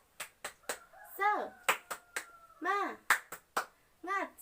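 Children in a classroom doing a rhythmic spirit clap, sharp group claps in a patterned beat alternating with children's chanted voices, close and fairly loud.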